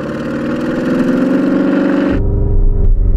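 A car engine held against a 4,000 RPM launch control soft limiter, loud and close, a buzzing rev that bounces on the limiter before the note drops and changes near the end.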